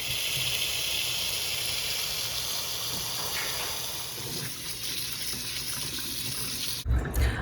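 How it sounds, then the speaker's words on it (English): Kitchen tap running into a sink to rinse freshly boiled garden potatoes, a steady hissing stream of water heard close and alone before it cuts off abruptly near the end. "I rinsed them off with a little cool water"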